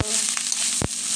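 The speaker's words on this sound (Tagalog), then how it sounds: "Magsangag para masarap." Rice frying in a pan for Filipino garlic fried rice, a brief close sizzle broken by two quick scraping stirs.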